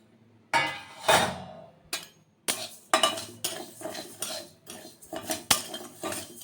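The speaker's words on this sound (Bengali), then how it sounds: "আর এখানে আমি কড়াই বসিয়ে দিয়েছি ওভেনে কড়াইটা গরম হয়ে গেছে আর এখন মুগ ডালটাকে ভেজে নেবো" Moong dal is dry-roasted in a hot wok, with a utensil scraping and clattering against the metal in irregular, close strokes separated by short pauses.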